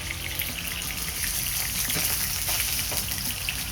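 Ahi tuna steak sizzles in a hot pan, a steady crackling hiss with bright spitting pops, close and continuous throughout without talk.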